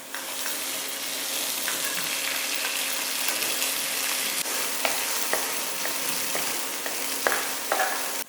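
Garlic and soybean paste fry in hot oil in a pan for rice noodles with gravy, giving a steady close sizzle with occasional stirring scrapes and small pops.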